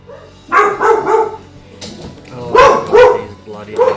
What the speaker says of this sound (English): these bloody dogs